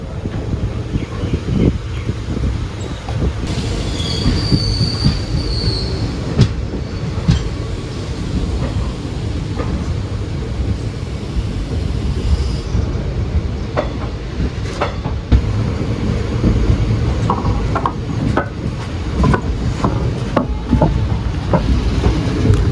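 Passenger train running from Mannargudi to Mayiladuthurai, with a steady, loud rolling rumble and rhythmic clickety-clack of the carriages, mixed with wind buffeting the microphone throughout and no talking.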